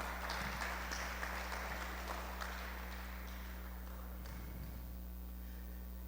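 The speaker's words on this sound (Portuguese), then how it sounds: "Vamos aplaudir o Senhor enquanto nos sentamos." A church congregation applauding as it sits down, giving a steady wash of clapping from many hands that softens and thins toward the end over a constant low hum.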